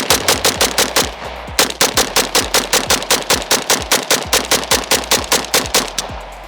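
Rapid semi-automatic gunfire from a SIG MCX rifle, a long steady string of sharp, loud, evenly spaced shots with one brief pause, close to the microphone.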